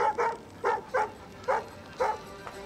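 A dog in the video game Assassin's Creed Origins gives a series of five or six short, soft barks and yips in an even rhythm, heard alone.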